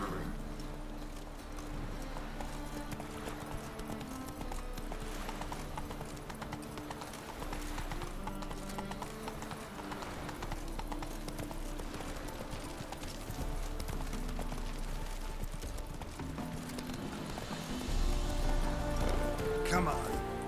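Galloping horse hooves from The Witcher 3 beat in a steady, close clip-clop rhythm for about twenty seconds, set against a dense bed of game music and ambience, with a short spoken line.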